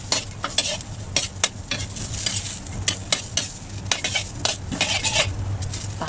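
Ginger slices and scallion pieces stir-fry in a wok after leftover fish-frying oil is poured off, with close sizzling and a repeated scrape and clatter of a spatula against the metal, no voices.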